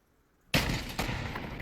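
A mortar shell fired from a rocket launcher in the VR shooter Pavlov, with a sharp loud launch blast after a moment of quiet and a second boom close behind, then a sustained rumble.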